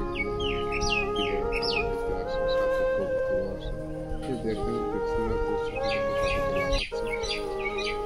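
Chickens cluck and call continuously at close range on a farm, their layered voices overlapping, while small birds chirp in short bursts nearby.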